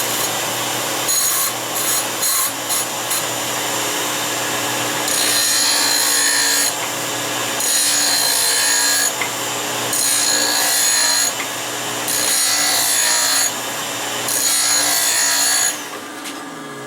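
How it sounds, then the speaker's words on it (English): A swing-arm skate sharpening machine's grinding wheel is trimmed in steady passes, a loud harsh grinding hiss that rises and falls in regular strokes over a constant motor hum. "Let me go ahead and trim the wheel a little bit."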